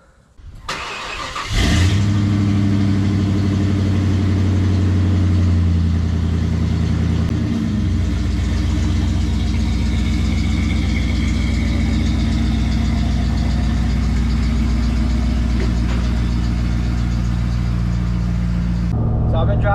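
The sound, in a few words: old truck driving to test new BDS suspension shocks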